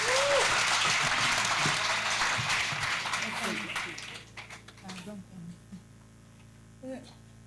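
A crusade audience applauds and cheers Jesus Christ, a loud, dense round of clapping that fills the first few seconds, then thins into scattered claps and voices as it fades.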